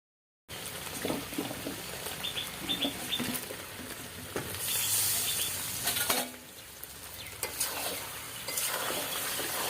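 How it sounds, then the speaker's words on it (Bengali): Mutton and potatoes are stir-fried in a pan, a close sizzling hiss with repeated scraping stirs and clinks of the utensil against the pan, alone without talk. "সবকিছু একসঙ্গে ভালো করে আর একটু সময় কষিয়ে নেব"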